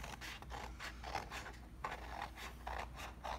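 Scissors cut a circle out of paper in a quick run of faint, crisp snips and slicing strokes, close by and with no voices.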